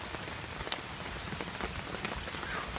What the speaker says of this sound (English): Windy though, it's like 20-mile-an-hour wind and hard rain